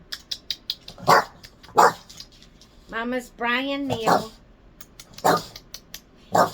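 Pet dog giving a few short barks and a whiny, drawn-out vocal moan between them, close and loud, with someone talking and a soft clicking in the background.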